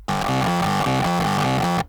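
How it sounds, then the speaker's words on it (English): A distorted synth arpeggio cycles through a repeating pattern of stepped notes, loud and gritty with a buzzing overdriven edge, playing continuously for under two seconds before cutting off. "let me throw a distortion on the ARP"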